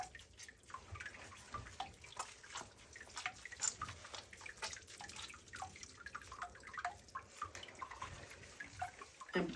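Water drips and trickles quietly as a wet towel is wrung out over a person's feet during a bath, with scattered soft drops and splashes at an uneven rhythm, faint and close.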